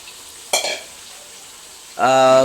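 Leftover liquid hits a pan of crab masala, and a sudden hissing sizzle bursts up near the end. Earlier there is a short clatter of stirring against a low kitchen background.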